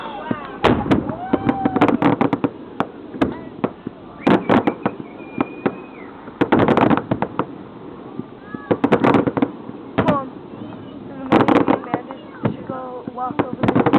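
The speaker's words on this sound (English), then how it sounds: "Fireworks. Way up there." Fireworks bursting overhead at an outdoor show: repeated sharp booms and crackling pops in clusters, some distant and some louder, with people talking and exclaiming between bursts.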